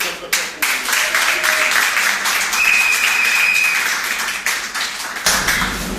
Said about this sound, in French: C'est par là, applaudissez.